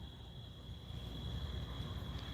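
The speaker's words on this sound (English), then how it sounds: "can't you hear those crickets?" Crickets chirping in a quiet outdoor setting near the water in Michigan, a faint steady high-pitched trill running continuously over low background hiss.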